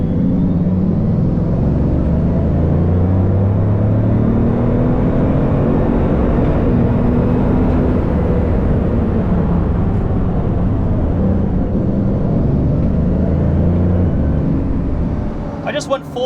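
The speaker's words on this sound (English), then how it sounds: "I just went full throttle on a Veyron." A Bugatti Veyron hypercar accelerating at full throttle on a smoothed-out road with its rear wing raised, a loud, continuous engine roar that rises steadily in pitch and holds for the whole stretch.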